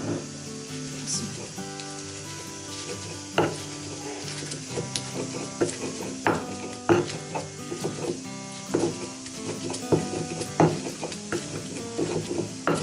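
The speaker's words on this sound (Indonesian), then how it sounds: "Kita ulek deh." A stone mortar and pestle grind tomato sambal with salt, sugar and shrimp paste, giving irregular knocks, scrapes and squelches close up, with no talk over it.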